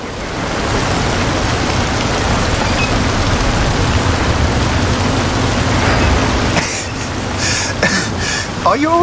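A rainstorm in Forza Horizon 5 hisses as a dense wash of steady, heavy rain for several seconds, then brief thuds and a voice break in near the end.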